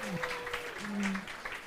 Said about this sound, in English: can we get a round of applause for Uganda and Tanzania?